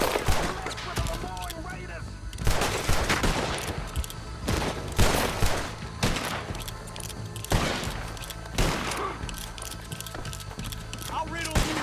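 Repeated gunshots from a Red Dead Redemption 2 shootout in the town of Rhodes, loud bursts of fire in clusters under shouting voices and game sounds.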